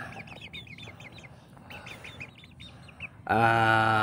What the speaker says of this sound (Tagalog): At yan dalawa po na yan ay dalawang tandang ay tumitilaok na po yan.